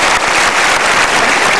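An audience bursts into dense, loud applause, a brief wash of many hands clapping at once.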